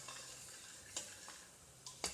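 Spinach being stirred into chicken curry with onions and tomato in a pan, soft quiet scraping and gentle sizzling with a few sharper spoon clicks near the end.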